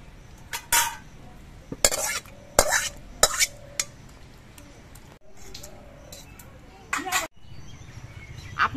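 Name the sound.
chana dal and pumpkin curry poured into a serving bowl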